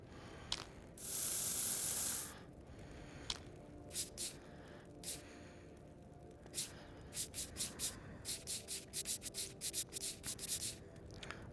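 Cleaner is sprayed onto a damaged item in the Into The Radius VR game: one long hissing spray burst, then a rapid series of short, sharp spritzes, fairly close and quiet.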